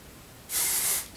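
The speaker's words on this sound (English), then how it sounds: "spray however much you think you need." Hairspray from an aerosol can held at a short distance, one bright hissing burst lasting about half a second, loud and close, with no talk.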